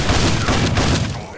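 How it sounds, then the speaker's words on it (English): Modded gunfire in Fallout 3 erupts as a dense, continuous fusillade of loud overlapping shots and booms throughout, with no clear gaps between bursts. "he is not gonna be able to take the new gunfire that was added by this mod"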